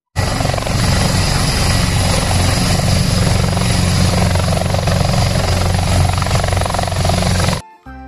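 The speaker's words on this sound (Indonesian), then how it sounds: "Wow, lihat teman-teman, ada helikopter." A toy helicopter whirs with a steady, loud rotor drone that runs almost without break for about seven seconds before stopping abruptly near the end.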